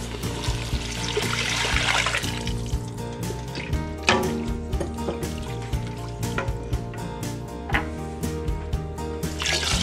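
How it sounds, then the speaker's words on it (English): Home-canned broth pouring into a pot of beef stew, a steady liquid trickle and splash running throughout with faint sizzling and intermittent clinks of utensils, close and fairly loud. "Now I'm going to add the broth."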